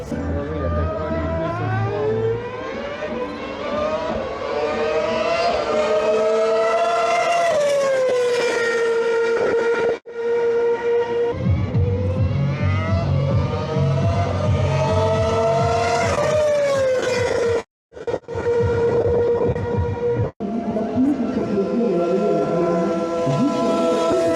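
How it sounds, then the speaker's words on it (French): Red Bull Formula 1 car passing during a demo run at a historic Formula 1 Grand Prix paddock event, loud engine howl rising and falling in pitch through repeated passes and gear changes, very close, with brief drops between runs. "Et voilà, le petit passage avec la Red Bull, c'est fini."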